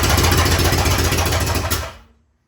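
A 1951 Panhead engine in a chopper motorcycle fires up for the first time, a loud close rumbling roar that runs for under two seconds and then cuts out abruptly into silence.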